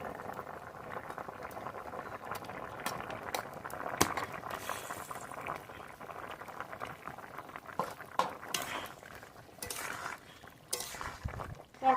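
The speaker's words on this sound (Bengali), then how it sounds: "ঝোল খুব ভালো জাল হয়ে গেছে" Fish curry broth with potatoes bubbles at a rolling boil, a dense close gurgle and patter of bursting bubbles, with occasional light clinks of a utensil; no voices.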